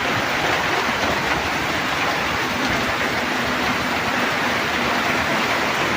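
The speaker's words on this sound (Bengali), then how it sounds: "আর এখন বিশাল জোরে বৃষ্টি এসছে" Heavy rain pours down steadily, a dense continuous roar of drops with no break for the whole stretch.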